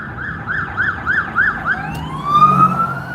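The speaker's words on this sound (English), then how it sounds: "Every 5 minutes, there's an ambulance or fire truck." An emergency vehicle siren, from an ambulance or fire truck, sounds loud and near on a Los Angeles street, yelping quickly at first and then shifting to a long rising wail over road noise.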